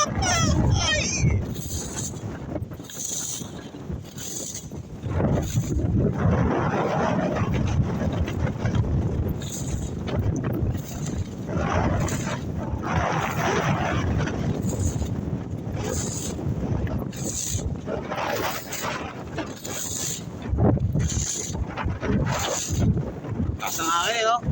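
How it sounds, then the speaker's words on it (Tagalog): Strong wind buffets the microphone in heavy low rumbling gusts throughout, with people talking over the roar, outdoors in Jeddah, Saudi Arabia. "Lakas ng hangin, no?"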